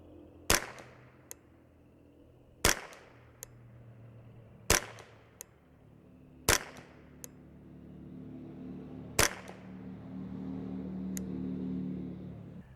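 Five sharp rifle reports from a Ruger 10/22 .22LR at an outdoor target range, crisp cracks spaced roughly two seconds apart with quiet pauses between them and low background rumble in the later part.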